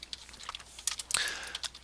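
Computer keyboard typing during a programming lab, quick irregular keystrokes close and clear, with a short burst of faster presses near the end and no talking.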